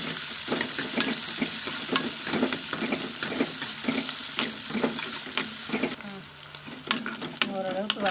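Onions sautéing in a pan with curry leaves and cinnamon for a mushroom gravy, a steady sizzle broken by repeated stirring scrapes of a spoon, with a brief splash of running water near the end.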